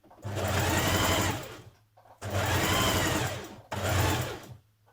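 A sewing machine stitches the side vents and hem of a New Look 6086 top in three loud, steady bursts, with short pauses between runs and no talking.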